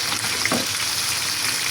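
Spices frying in a pan, a continuous soft sizzle close by, steady throughout with no voices.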